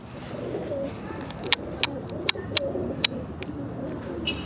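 Domestic pigeons in a loft in Pakistan or India give low cooing calls, with several sharp clicks or wing taps mixed in over a steady background. People talk nearby.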